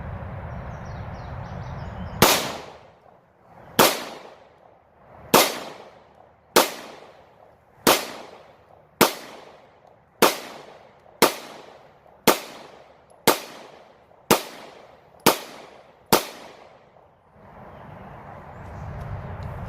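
A Taurus TH9C pistol fires a string of about a dozen sharp, loud shots at a target outdoors, spaced roughly a second or more apart, each followed by a brief decay, with quiet ambience between.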